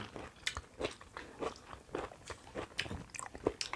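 Someone eats crunchy, sweet food alongside a fresh liver dish, making repeated soft bites and crunches in an uneven chewing rhythm. The sounds are faint and close, with no talking.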